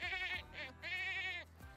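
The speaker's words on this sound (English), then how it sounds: "Play with the mini goat." A mini goat on a Sims 4 horse ranch bleats in two quick wavering calls, close and clear, with no talk over it.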